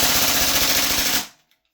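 A Salvo MCX Spear gas blowback airsoft rifle dumps the rest of its magazine on full auto, a loud dense rattling burst lasting just over a second before cutting off to silence.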